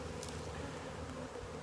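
Docile honeybees from several colonies hum steadily in a bee yard in the open near Pittsburgh International Airport, a faint, even buzz throughout with no talking.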